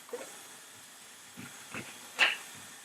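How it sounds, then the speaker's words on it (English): A mixture heats over medium heat in a pan and bubbles gently, giving a faint, steady hiss with a few soft pops and bursts scattered through. "boil slightly or slowly. All those bubbles are coming out."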